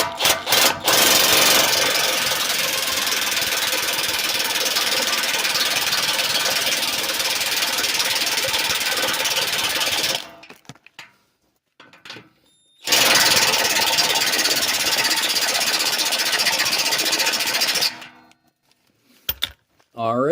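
A cordless impact wrench hammers loud and close while tightening a muffler clamp on a 1998 Ram 1500, in two long rattling bursts split by a short pause, then a few brief stuttering pulses.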